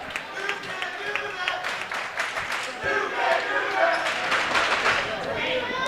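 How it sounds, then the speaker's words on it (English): A student section cheers at a volleyball match with dense, steady crowd roar and scattered claps and shouts, loud throughout, with a commentator talking over it. "when you have the student section like this cheering, just adds to the atmosphere"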